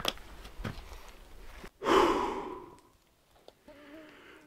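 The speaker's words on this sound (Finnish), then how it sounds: "Hyvä kun kameramies huohottaa taustalla" A cameraman on a hike in Pyhä-Luosto National Park breathes heavily, with a few sharp intakes and then a long, loud exhale or sigh, close to the microphone, followed by quieter breathing.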